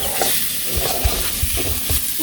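Food frying in a pan in a village kitchen, a continuous sizzle with several low thumping stir strokes against the pan, close and moderately loud with no talking.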